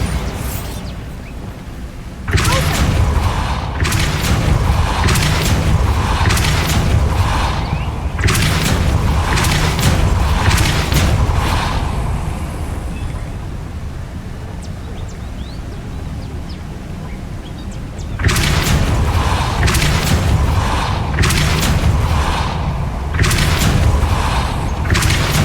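Confringo and Bombarda spell explosions in Hogwarts Legacy, a loud, dense run of repeated booming blasts in rapid bursts, a brief lull, then more blasts.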